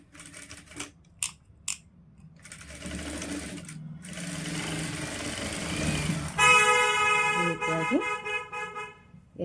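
A sewing machine stitches the lining of a blouse. The motor whirs steadily and fairly close, with a few brief starts and stops, while a person speaks over parts of the sewing.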